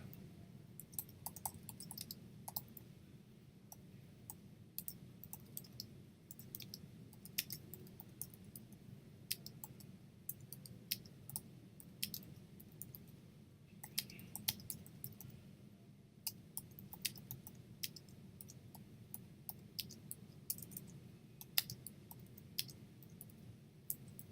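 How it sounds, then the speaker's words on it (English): Computer keyboard typing goes on throughout, a quiet, rapid stream of clicky keystrokes in irregular bursts over a low room hum. "The cool thing is that I can also just type."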